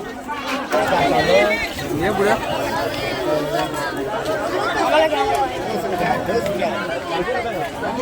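A dense crowd of devotees at a Shri Ram Navami festival in Harne Pajpandhari, Dapoli, fills the air with continuous close chatter and hubbub, many voices overlapping steadily throughout.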